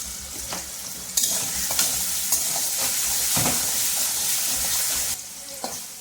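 Potato pieces seasoned with salt and turmeric sizzle loudly in a frying pan as they are stirred, with scraping strokes and bursts of crackle over a continuous fry.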